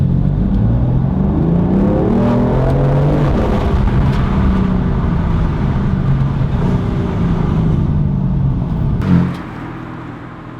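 A BMW M4 engine revs and drones loudly with a deep exhaust note, heard from inside the car with the window down, rising and falling in pitch, then drops off abruptly near the end.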